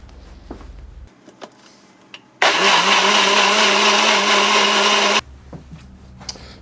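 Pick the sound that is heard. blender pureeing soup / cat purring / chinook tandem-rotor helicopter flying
blender pureeing soup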